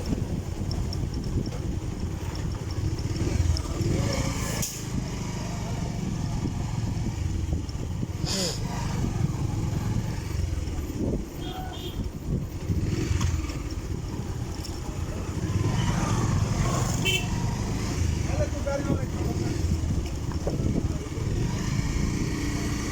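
Vehicle driving slowly along a village highway at night between Kharijjama and Patuakhali, a steady engine and road rumble continuing throughout with a few brief higher-pitched bursts, fairly close and constant.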